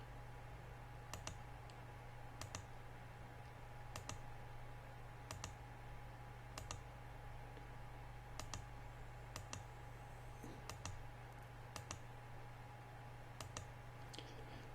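Sharp, quiet computer mouse clicks come at a steady, evenly spaced pace while someone draws hair on a colour layer with a Bézier drawing tool. A constant low hum runs underneath and no one speaks.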